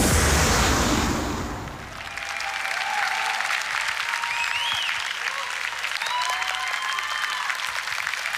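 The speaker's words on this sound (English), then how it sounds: "A round of applause, please, for our champions" An audience applauds the Extreme and Sports Challenge champions at the Mr. World 2019 event, a loud burst of clapping easing slightly and then holding as steady, dense applause throughout.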